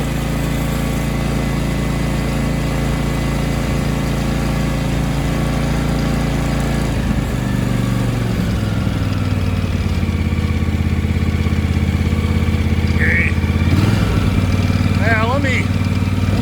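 The small engine of a 2021 John Deere X350 riding lawn mower runs loudly and steadily, its pitch shifting as it revs up to full throttle partway through, with someone speaking briefly over the motor.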